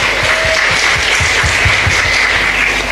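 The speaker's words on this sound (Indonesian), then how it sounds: "Tepuk tangan untuk NU." Loud audience applause during a religious-organization speech in Indonesia, a dense wash of clapping with some low thumps and rumble underneath, filling the whole moment without speech.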